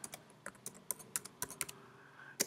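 Keyboard typing while entering text in a spreadsheet: a close series of light, crisp key taps in uneven bursts, with no talk over them.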